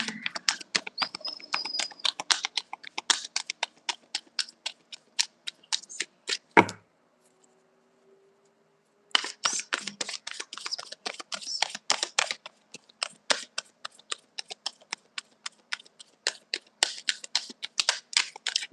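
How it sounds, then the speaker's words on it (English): A tarot deck being shuffled in rapid riffling bursts of card clicks, pausing briefly mid-way before shuffling resumes steadily and close up, with no voices. "Let me do one more shuffle here."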